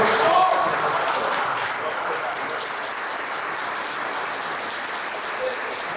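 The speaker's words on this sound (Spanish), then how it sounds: "por favor, recibirlo con un fuerte aplauso" An audience at a video game convention talk welcomes a speaker with applause, a continuous dense clatter of many hands, fairly loud and even throughout, with a brief whistle near the start.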